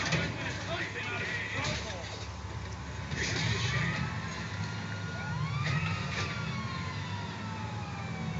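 A police siren in the video game GTA V wails in rising and falling sweeps over steady engine noise and a murky background, sounding somewhat distant and electronic.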